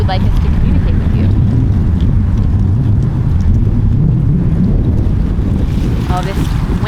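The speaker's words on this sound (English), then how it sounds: "Oh, this wind." Strong wind buffets a microphone outdoors at night, a constant low rumbling roar filling the whole stretch.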